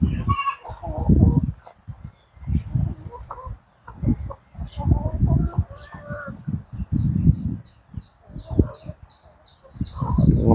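Chickens cluck and chatter nearby while a person talks over them, with small high calls scattered through the noise.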